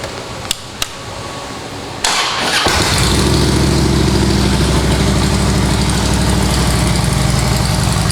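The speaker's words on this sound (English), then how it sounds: "Fire it off and let you listen to it. It's got a set of Reinhardt exhaust, so it's got a real nice sound." A Harley-Davidson Road Glide Ultra FLTRU motorcycle with Reinhardt exhaust fires up after two sharp clicks, then settles into a loud, steady, deep lumpy idle close to the listener, with no talking.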